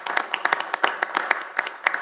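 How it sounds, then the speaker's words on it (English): A city council meeting audience claps in a brief burst of applause, many hands at close range and fairly loud, with a voice murmuring underneath. "we can clap for that"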